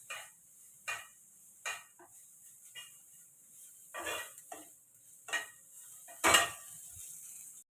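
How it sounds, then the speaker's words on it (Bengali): Neem leaves frying in a pan, heard as intermittent scraping and stirring bursts with a faint sizzle underneath, fairly close and fairly quiet, with no talking. "এরকম নিম পাতা ভাজছি।"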